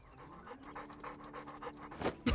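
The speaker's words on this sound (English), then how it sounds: "Oh, there's the dog." A dog pants rapidly and close up in the video game Trails Beyond the Horizon, quick rhythmic breaths running throughout, ending in a louder burst.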